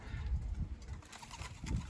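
Low, soft homing pigeon cooing repeats in murmuring bursts, fairly close, with a faint wind-like hiss in the background.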